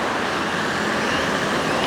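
Dense roadway noise from a busy Mexican street, cars and heavier vehicles like buses or trucks rumbling past in an unbroken, fairly loud stream with no talking.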